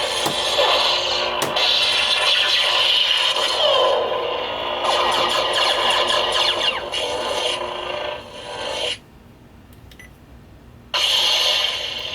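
A Neopixel lightsaber with a turbine-style blade flashes through a fast ignition into a loud, steady electronic hum with bright sweeping whooshes, then drops briefly quieter before the buzzing blade surges back near the end.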